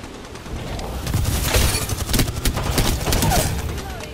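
Dense rapid gunfire in Apex Legends, a sustained rattling fusillade of overlapping shots lasting several seconds, loud and close, with faint game sounds underneath.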